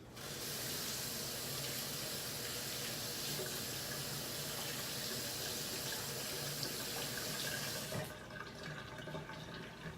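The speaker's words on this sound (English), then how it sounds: "Rinse my hands." Water runs loudly and steadily from a tap into a sink as hands are rinsed, a constant close rush that lasts about eight seconds and then stops abruptly.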